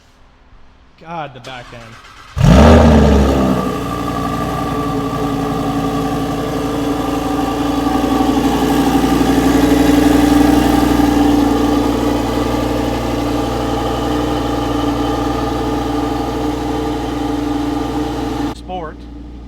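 A 2023 Lamborghini Huracan Tecnica cranks over with a sudden loud burst, then settles into a steady, throaty idle that holds close up, with people talking nearby.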